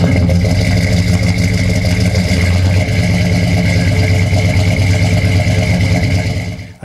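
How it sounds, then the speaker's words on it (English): A classic convertible car's engine revs and rumbles loudly through a newly fitted exhaust system, a close, sustained throaty roar with clattering pulses that cuts off abruptly at the end. "I just put a new exhaust system on, which is extremely loud and extremely good."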